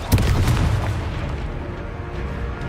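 Confringo blasting spell going off in the Hogwarts Legacy video game, a sudden loud boom at the start that rolls off into a rumbling decay over a couple of seconds.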